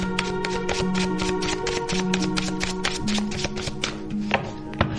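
Tarot cards drawn and laid out from a deck, giving a steady run of quick, close tapping and flicking sounds with a faint tone held underneath.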